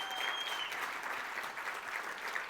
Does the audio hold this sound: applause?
yes